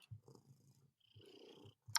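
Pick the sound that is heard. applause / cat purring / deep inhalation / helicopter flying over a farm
cat purring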